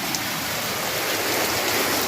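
Steady rain falling outdoors, a soft even hiss of drops on surfaces, faint and continuous with no voices.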